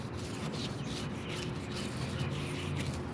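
Close, continuous rubbing as a rust treatment is wiped onto rusted car body metal, a soft scratchy scrub with faint background noise and no voices.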